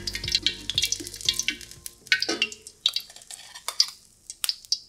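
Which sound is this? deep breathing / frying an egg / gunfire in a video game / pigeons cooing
frying an egg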